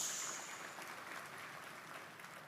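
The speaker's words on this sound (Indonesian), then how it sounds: "Tepuk tangannya paling meriah pada Yesus" Church congregation applauding during a sermon, a steady wash of many hands clapping at a fairly low level throughout, with no voices over it.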